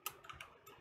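A few faint, crisp clicks spaced irregularly, from a computer mouse being pressed during a Minecraft session in the All The Mods 7 To The Sky modpack.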